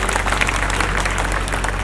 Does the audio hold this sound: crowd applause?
yes